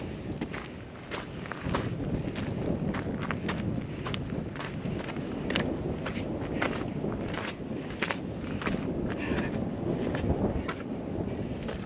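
Gusty wind on a desert mountain peak near Phoenix buffets the microphone in a steady roar, with rhythmic crunching footsteps on rocky ground throughout.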